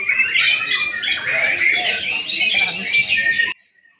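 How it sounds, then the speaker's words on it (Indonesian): A white-rumped shama sings a rapid, bright, continuous warbling song up close for a few seconds, then cuts off abruptly. "Murai batu pastol yang sedang teman-teman saksikan di layar handphone"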